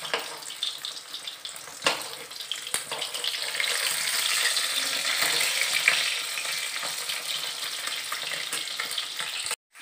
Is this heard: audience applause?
no